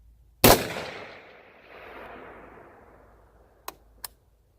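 A single sharp gunshot from a 6.5 Grendel hunting rifle fired outdoors, loud and close, with a decaying echo rolling away afterward, followed by two faint distant clicks.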